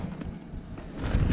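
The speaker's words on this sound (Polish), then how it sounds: "wiatr wieje." Wind blowing on the Reykjanes peninsula in Iceland, heard as a low, rumbling buffet against the microphone that swells louder toward the end, with no voices.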